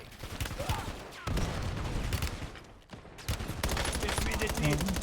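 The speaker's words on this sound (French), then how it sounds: "Essuie des tirs" Dense gunfire from the Call of Duty Warzone video game, continuous bursts and rattling shots filling the clip at steady loudness, with faint background voices mixed in.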